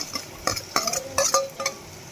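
Chopped bottle gourd tipped into a pan with garlic and stirred for a Kathiawadi-style gourd curry, giving a run of close, uneven scraping and clinking strokes over a light sizzle, with no talking.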